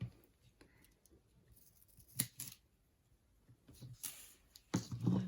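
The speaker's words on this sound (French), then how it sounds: "Je préférais mon ciseau noir." Black scissors cut through paper in a few brief, crisp snips close by and fairly quiet, with a soft rustle of paper between cuts and no talking.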